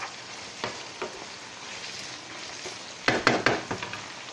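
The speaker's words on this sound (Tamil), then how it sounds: "உப்பு போட்ட உடனே தக்காளியை நல்லா வதக்குங்க" Tomatoes with salt sauté in a pan for tomato chutney, giving a soft steady sizzle followed by a few louder scraping stirs near the end, close up with no voices.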